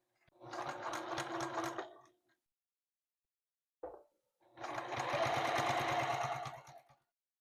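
Sewing machine stitching a quarter inch seam with a short back stitch on a reversible fabric bowl cozy, two close rattling runs separated by a brief mechanical click and silence.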